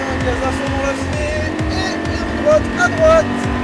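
A Lamborghini LP560 screams at full throttle in fifth gear on a racing circuit, its engine droning loud and steady with brief tire squeals over it, while a voice talks throughout.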